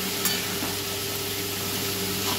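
Boiled mung dal added to cooked greens in a pan, with a steady, even sizzle and gentle frying hiss throughout and no talk.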